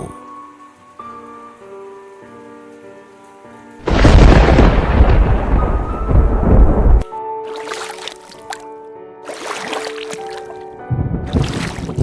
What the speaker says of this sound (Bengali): আকাশে যে কালো মেঘ ঢেকে গেছে প্রচন্ড বিদ্যুৎ চমকাচ্ছে